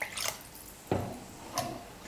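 Water is poured into masala in a cooking pot for masala puri in three short, soft splashes spread over about two seconds, with quiet gaps between them.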